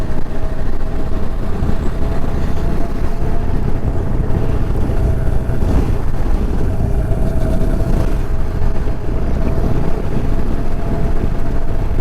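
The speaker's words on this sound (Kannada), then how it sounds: "ನಂದು ಬ್ಯಾಕ್ ರಿಯರ್ ಬೈಕ್ ತುಂಬ ಸೌಂಡ್ ಬರ್ತಿದೆ" A Bajaj Dominar 400 motorcycle with a bent rear disc brake is ridden on the Shiradi Ghat road. A constant loud roar of engine and wind fills the whole stretch, with no break and no voices.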